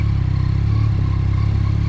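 Yamaha MT-09 SP motorcycle engine running in a steady low, throbbing rumble with a rapid pulsing beat, loud and close, holding a fairly even pitch without any clear rise in revs.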